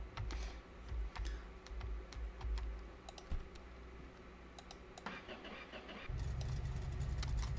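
A car engine in a home garage, in fairly decent shape, starts up: a few seconds of clicking and rattling, then the engine catches and settles into a steady, low, close idle rumble.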